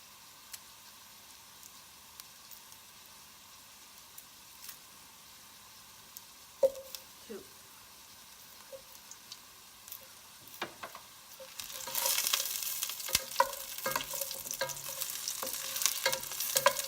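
Two cloves of garlic fry in a pan for a crawfish dinner, a faint steady sizzle with light stirring scrapes that grows louder and busier toward the end as the garlic crisps and browns.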